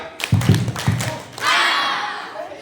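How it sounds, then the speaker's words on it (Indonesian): Audience at an Isra Miraj religious gathering claps in unison three times, a quick cluster of sharp, fairly loud claps followed by a longer wash of crowd noise and scattered applause. "Tepuk tiga ke depan."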